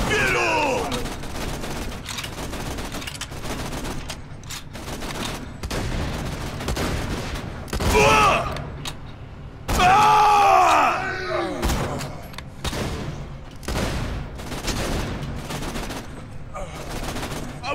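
Rapid bursts of gunfire and explosive shots from the video game Borderlands 2, loud and dense, with yelling and groaning voices mixed in over continuous combat.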